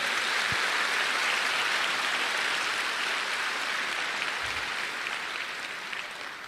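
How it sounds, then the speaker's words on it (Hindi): Sustained, dense clapping from an audience at a network marketing seminar, loud and steady throughout and easing slightly toward the end. "एक जोरदार ताली दीजिए ऊपर वाले उस ईश्वर के लिए।"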